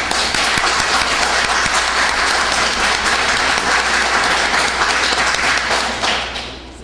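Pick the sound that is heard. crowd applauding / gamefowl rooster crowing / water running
crowd applauding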